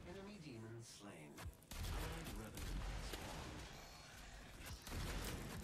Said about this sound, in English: That rocket went into his face